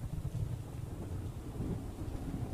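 Low, rumbling thunder rolls along with rain-like hiss in the horror video game Choo Choo Charles, a quiet, sustained storm rumble heard alone.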